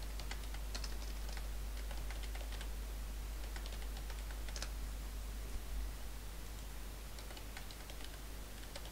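A password being typed on a computer keyboard, with quick, irregular clusters of soft key clicks over a steady low hum, close and faint, with no voices.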